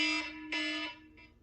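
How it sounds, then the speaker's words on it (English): A reminder alarm on a phone goes off, sounding as bright buzzy electronic beeps in a rapid pattern, two longer tones and a shorter trailing one, close and clear with no talking. "that's the 2:30 alarm to remind me I have to go get the 6-year-old from school in 15 minutes"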